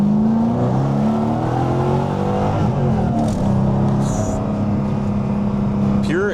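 A supercharged Mercedes C63 with a manual swap pulls hard at partial throttle, its engine drone steady and loud from inside the car, rising slightly in pitch over several seconds with faint whine overhead.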